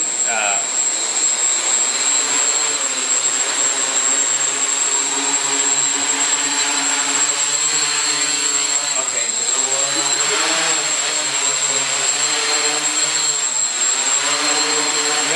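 Small camera drone hovering indoors, a steady high-pitched propeller whine with a constant tone, its pitch wavering as the throttle is nudged; people talk faintly in the background.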